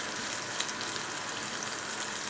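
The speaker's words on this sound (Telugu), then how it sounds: "లాస్ట్లో చింతపండు వేసి వేయించుకోవాలి" Tamarind frying in hot oil for coriander chutney, a short, steady sizzling crackle heard close up, with no talking.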